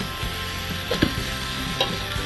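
Noodles for Malaysian-style Hokkien mee hiss and sizzle in a hot pan while being stirred, with a steady frying crackle and a few sharp scrapes and knocks of the utensil.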